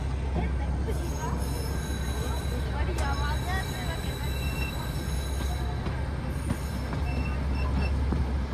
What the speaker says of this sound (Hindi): यहाँ आप खुद देख सकते हैं कैसे चढ़ाई में लोकोमोटिव अपने आप पीछे को चलना लग पड़ा, आगे को नहीं चल पाया।